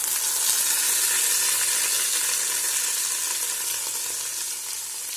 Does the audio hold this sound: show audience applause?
no